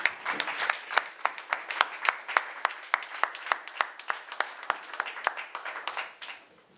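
A church congregation applauds the word of God in steady, even rhythmic clapping that lasts several seconds and then fades out, moderately loud with no talk over it.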